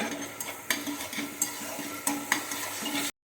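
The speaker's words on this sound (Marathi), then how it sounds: "कांदा लालसर होईपर्यंत भाजून घ्यायचा मीडियम टू लो फ्लेमवरती।" Onions fry over a medium-low flame with a soft, continuous sizzle, and a spatula scrapes and stirs the pan at irregular intervals before the sound cuts out.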